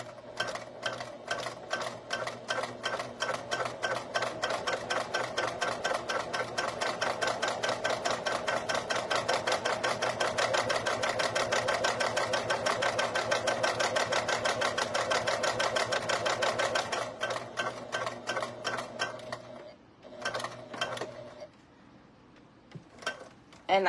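A sewing machine stitches webbing for keychains in a steady rapid mechanical chatter for most of the stretch, close and clear, then slows to a few short bursts before stopping.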